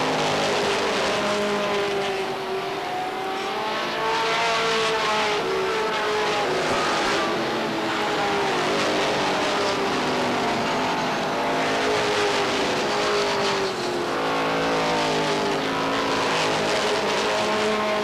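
Race cars circling a short oval at Beech Ridge Motor Speedway in 1991, engines droning continuously and loudly with rising and falling pitch as cars pass, a dense overlapping roar throughout.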